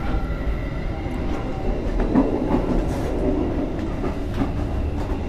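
An economy-class passenger train carriage rattling and rumbling steadily on the rails, with faint clicks and a brief wheel squeal, loud and continuous with no talking.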